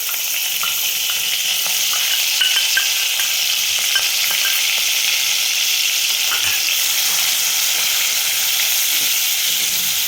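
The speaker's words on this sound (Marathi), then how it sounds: "आणि नंतर कांदा जो आपण वाटून घेतला होता तो कांदा टाकते." Ground onion sizzling steadily in a hot pan with cumin and finely chopped green chili, a loud, continuous crackling fry with occasional stirring scrapes and no voices.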